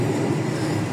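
A passenger train travels between Jogja and Solo, giving a steady, dense low rumble of wheels and carriage noise throughout, with no voices.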